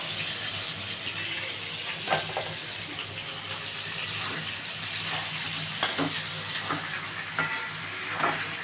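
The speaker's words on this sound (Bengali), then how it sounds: "এখানে পটল, আলু আর কুমড়োটা, এটা ভাজা হোক" Pieces of potato, pumpkin and pointed gourd fry in oil left from frying fish heads, giving a steady, moderate hiss with occasional faint pops and clinks.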